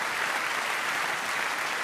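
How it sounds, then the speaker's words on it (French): Dense, continuous applause fills a large hall at the Nuit du Rugby awards ceremony, a thick even wash of many hands clapping together, loud and unbroken. "c'est bien de m'applaudir, les gars"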